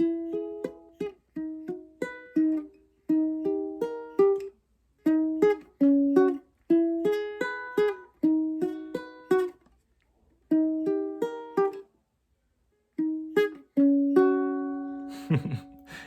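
A ukulele is fingerpicked in a repeating 2-3-4-3 pattern across changing chords, the intro of a song, played in short, bright, evenly spaced phrases with brief pauses between them, close and alone.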